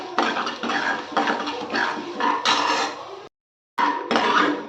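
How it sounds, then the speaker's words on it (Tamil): Chana dal being stirred in a pan while making adai dosa, a steady run of scraping and clattering spoon-on-pan strokes, close and fairly loud, with a brief pause near the end before the stirring resumes. "அடுத்து கடலைப்பருப்பு தேவையான அளவு, நல்லா கலந்து விட்டுக்கோங்க"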